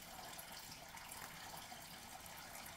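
A tap runs steadily, filling water for a pet's bath, a constant close hiss and splash with no pauses over the whole stretch.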